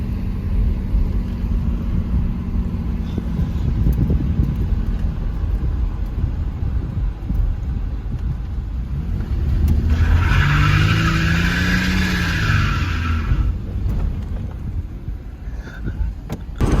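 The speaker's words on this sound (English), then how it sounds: "So we're on the same country road. No hands, no knees. Just easy. Just driving smooth." Ford Ranger pickup cruising along a country road, with steady engine and road rumble throughout, some wind and tire noise, and a brief rising tone partway through.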